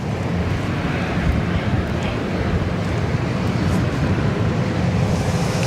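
A Ryanair airliner at Barcelona El Prat airport gives off a steady, dense roar of jet engines that barely changes. Wind noise buffets the microphone nearby.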